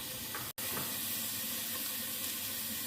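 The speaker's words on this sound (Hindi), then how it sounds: "चिकन में हम तकरीबन 1 लीटर पानी ऐड कर देते हैं" About a litre of water pours steadily into a pot of chicken for soup, making a continuous close hiss and splash with a single brief dropout early on and no voices.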